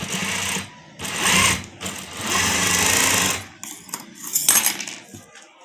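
A sewing machine stitches side seams on the pieces of a stylish neck design, running loud in bursts of rapid mechanical whirring separated by short pauses, with a few lighter clicks near the end.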